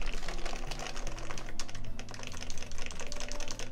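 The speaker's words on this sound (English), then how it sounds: "it makes your keyboard sound a lot louder" Typing on a TGR Jane V2 mechanical keyboard that sits slightly wobbly, giving a louder sound: a steady run of dense keystroke clatter over a continuous low background hum, with no voice.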